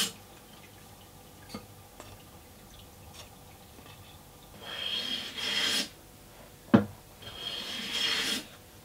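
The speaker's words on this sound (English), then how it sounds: "After every cut, I took the piece to the vise and hand planed a fresh edge." Hand plane shaving the edge of a thin wooden strip clamped in a vise, heard as two longer rasping strokes with a sharp knock between them, preceded by faint scattered taps in a quiet workshop.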